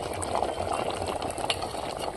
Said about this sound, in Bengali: এই দেখুন বন্ধুরা, কেমন ফুটছে হাঁড়ির মধ্যে।